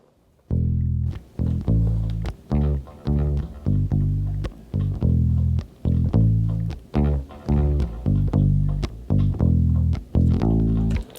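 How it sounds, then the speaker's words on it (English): A solo bass guitar plays a steady, punchy line of repeated low notes with short gaps between phrases, loud and upfront with no other instruments. "So right now, this is just the bass track soloed."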